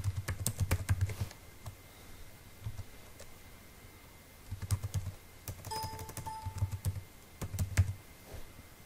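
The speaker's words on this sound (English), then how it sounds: "So I'm going to type in my details." Typing on a computer keyboard while entering login details during a software install, with bursts of close, crisp keystrokes separated by short pauses and a few isolated clicks.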